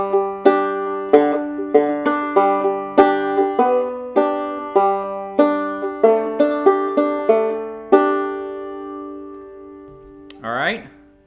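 A two-finger thumb-lead banjo passage rolls along in a steady bouncy rhythm of quick plucked notes over a droning low string, close and alone, ending with a brief sliding squeak.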